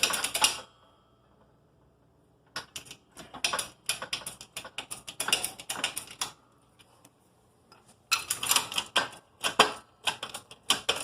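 Transfer case parts from a Drag Cartel B-series billet AWD unit are being press-fitted, giving bursts of sharp, rapid mechanical clicking and rattling separated by short silent gaps.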